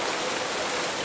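Steady rain pours down in an even, dense hiss, loud and close with no gaps, like a downpour drumming on a surface outdoors.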